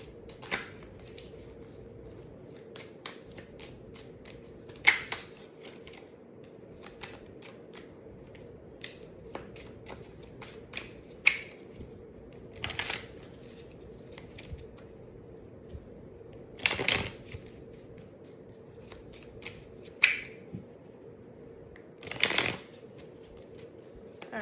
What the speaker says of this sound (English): I'm gonna get some cards from this deck, and then we're gonna jump into the tarot